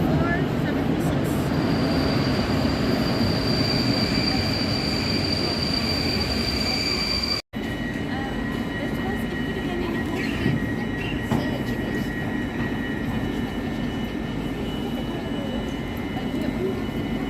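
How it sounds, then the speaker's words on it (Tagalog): A train rolls through a station in Poland with a loud, continuous rumble and rattle, plus a thin high wheel whine and a brief drop partway through. "yan na nga yung train natin."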